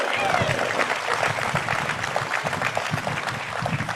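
Audience applause at a giant panda debut event at the San Diego Zoo, a steady wash of many hands clapping that holds evenly for several seconds without letting up.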